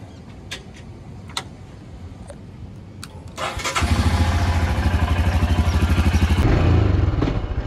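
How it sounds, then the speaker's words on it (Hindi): A motorbike is kick- or self-started on a rainy morning near the beach at Mandarmani, cranking briefly before the engine catches and settles into a loud, steady idle close by. "चलो बाइक को थोड़ा सा कॉल स्टार्ट देंगे।"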